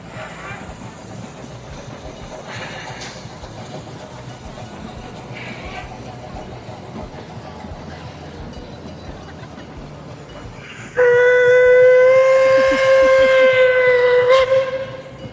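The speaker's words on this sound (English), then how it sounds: "that is called Puffing Billy, which is a local heritage steam engine" A Puffing Billy heritage steam engine lets out a loud, sustained steam whistle blast lasting several seconds, rising suddenly out of a quieter outdoor background with faint distant voices.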